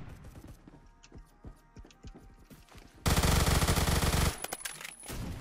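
Gunfire in a shooter video game: scattered sharp shots and clicks give way to a loud, sustained burst of rapid automatic fire, then several more close shots.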